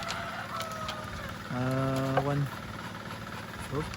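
Farm ducks call over a constant low farmyard hum, with one long, drawn-out honking call in the middle and a shorter call near the end.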